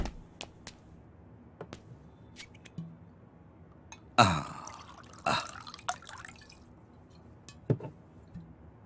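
Liquid is poured into glasses, with a couple of splashing pours and small clinks among soft drips and quiet room noise, heard close with no talk.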